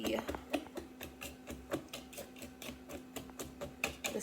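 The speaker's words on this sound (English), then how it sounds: "I'm going to crush them up a little bit more with the whisk" A whisk crushes nuts into brownie mix in a steady run of sharp, rhythmic taps and crunches, close and fairly quiet, with a faint steady hum in the background.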